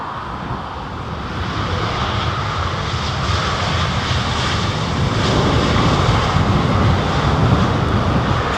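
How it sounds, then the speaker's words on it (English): A British Airways Boeing 787-10 airliner at London Heathrow produces a steady, broad jet-engine roar that builds gradually and holds loud throughout, with wind noise washing over the microphone. "One of BA's 787-10s."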